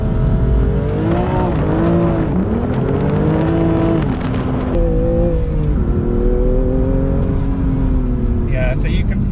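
A BMW M2 CS on Cup 2 tyres accelerates hard on a wet road, its engine note climbing through the revs, dipping at a gear change and rising again. A voice talks over the loud, close cabin roar.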